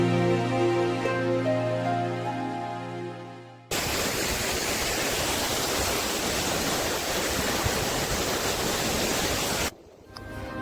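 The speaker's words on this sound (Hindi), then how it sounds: "सामने ये आपको एक वाटरफॉल दिखाई देता है जो काफ़ी ऊंचाई से नीचे की तरफ गिरता है" A waterfall near Dharchula in the Darma valley, dropping from a great height, roars as a dense steady rush of white noise for several seconds, loud and near, cut in abruptly after a tonal hum.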